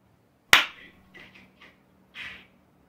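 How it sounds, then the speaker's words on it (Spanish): A single sharp hand clap, close and loud, marks a sync point for editing during a Zoom interview, followed by a few faint small noises in a quiet room. "ahora te voy a pedir que por favor aplaudas para el tema de la edición"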